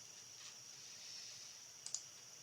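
A computer mouse clicks on a web link, two quick faint clicks over a quiet background hum.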